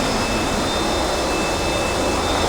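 A-4E jet engine idling in a flight simulator game, a loud steady broadband roar with a thin high whine, unchanging throughout and with no talking.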